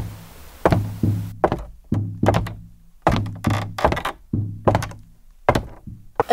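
Footsteps descend a staircase as a sound effect in a Portuguese-language audio mystery story: about ten hollow, wooden-sounding thuds in an uneven walking rhythm, close and fairly loud, with no voices.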